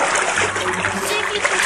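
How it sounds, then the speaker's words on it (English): A hand swishes through the water of a garden fish pond, making a close, continuous splashing and sloshing, with a person talking quietly beneath it. "Swish the water about a bit."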